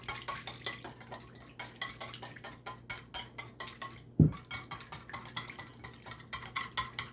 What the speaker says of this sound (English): And now you're just gonna whisk. I'm just gonna whisk it.